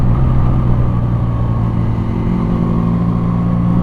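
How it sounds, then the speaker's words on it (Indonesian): A Benelli Patagonian Eagle 250cc motorcycle engine rumbles steadily at close range, a deep, continuous low drone with no breaks or revving changes. "Suara motor gue itu kayak ngorok banget gitu"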